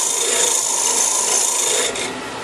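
A wooden birdhouse piece being hollowed out with a cutting tool, a loud, continuous close-up rasping scrape on wood that eases off slightly near the end.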